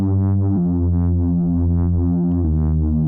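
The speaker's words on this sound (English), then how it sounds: "I'm adding this classic tube, like I guess saturation or distortion." Sustained, dense synth tone run through a low-pass filter and classic tube saturation distortion, holding a gritty harmonic drone that shifts pitch twice, loud and alone.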